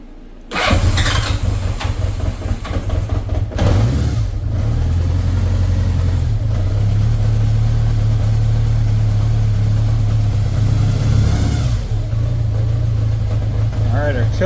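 A Honda GL1100 GoldWing motorcycle engine starts with a burst and settles into a loud, steady warm-up idle, with a brief rev partway through.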